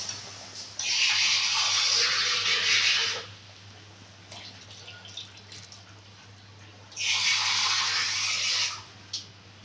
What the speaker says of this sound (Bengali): আমি এগুলোর মধ্যে জল দিয়ে দিলাম।